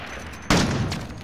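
A single sharp sniper rifle shot cracks out in Call of Duty: Modern Warfare Warzone, a sudden loud report with a short decaying tail over steady background game noise.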